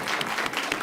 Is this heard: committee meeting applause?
yes